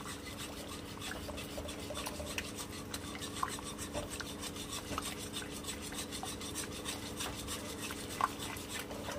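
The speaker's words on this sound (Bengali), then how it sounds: "এবার এই কন্টিনিউয়াসলি নেড়ে যেতে হবে।" Punjabi kadhi stirred continuously in a pot over raised heat, giving a steady scraping, rubbing rasp with small knocks of the spoon against the pot, moderately close and without talk.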